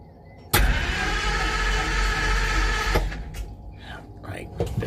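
A Simca Marmon 4x4 engine cranks with choke and hand throttle, a loud continuous churning that stops abruptly after a couple of seconds, followed by quieter knocks and someone speaking.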